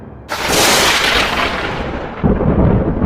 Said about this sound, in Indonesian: Petir menyambar di kejauhan.